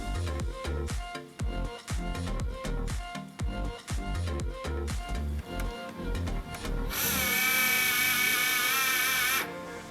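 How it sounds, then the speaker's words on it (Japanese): Hand motor drilling a hole while making a silver flower pin brooch: rhythmic scraping and ticking strokes at first, then a loud, steady high-pitched whir of the small rotary motor for about three seconds. "ハンドモーターで穴開けする場合はこんな感じで作業しています。"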